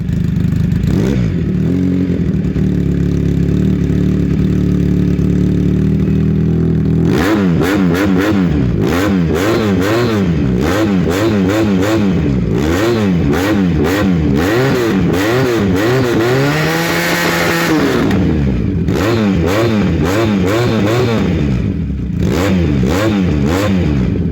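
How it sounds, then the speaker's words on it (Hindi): A YCR Falcon Ducati-replica motorcycle engine idles loudly up close, then revs repeatedly in rising and falling bursts, with one long high rev before settling back to a steady idle. "आप लोगों ने इस बाइक का साउंड टेस्ट देखा"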